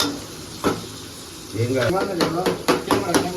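Garlic sizzles in a hot pan for a Chinese-style devil chicken breast dish, a steady frying hiss broken by sharp clinks of a utensil stirring, with people talking over it.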